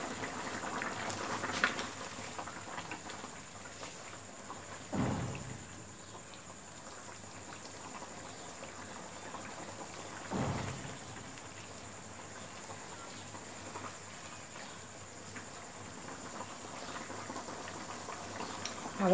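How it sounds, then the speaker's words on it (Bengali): Taki fish cooked with bottle gourd simmers in a covered pot, giving a soft, steady bubbling hiss close by, with a couple of brief louder knocks along the way. "এখন মাছটাকে আমরা 2 মিনিট রান্না হতে দিব।"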